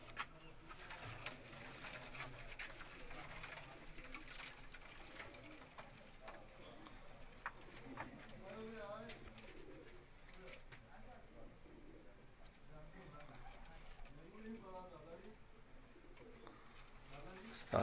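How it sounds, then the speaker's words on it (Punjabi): Migratory pigeons coo softly on a Sheikhupura rooftop in a series of low, rolling calls, faint and under quiet conversation nearby. "ਉਹਨਾਂ ਦੇ ਪ੍ਰਵਾਸੀ ਕਬੂਤਰ ਨੇ"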